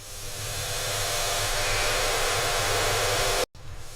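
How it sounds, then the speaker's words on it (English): Steady broadband hiss of water spraying from a home shower, loud and continuous with no voices, then cutting off briefly near the end before resuming. "I'm taking a shower."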